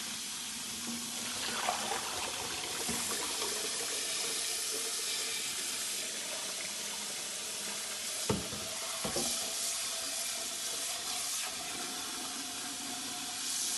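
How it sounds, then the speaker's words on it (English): Hot water from boiling eggs pours and splashes steadily into a sink, a continuous rushing hiss with a couple of brief knocks partway through. "as I was dumping the hot water out"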